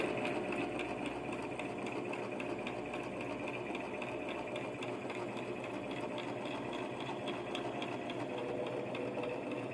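A sewing machine runs steadily while stitching in the ditch along a seam, its rapid needle chatter and motor whir forming a continuous, even mechanical buzz at moderate volume.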